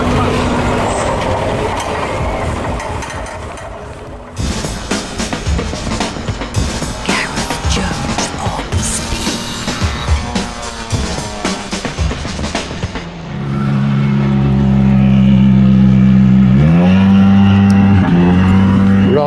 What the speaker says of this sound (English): The nice German registered Hyundai World Rally car just rolls past me.